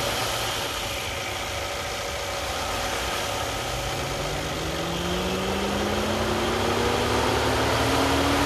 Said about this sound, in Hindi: इंजन की साउंड से आपको सुना दी है,